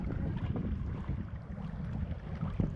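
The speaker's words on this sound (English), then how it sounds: "This wind's got quite a bit of west in it, a lot more than it does south" On the open sea off Kangaroo Island, a westerly wind rumbles and buffets the microphone during a sea kayak paddle, a steady low roar with water wash beneath and no talking.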